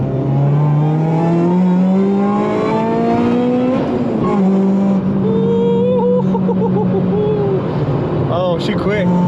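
A Honda Civic accelerates hard, its engine note climbing steadily in pitch over several seconds, drops briefly, then pulls up again. It is loud and close, with voices talking inside the car.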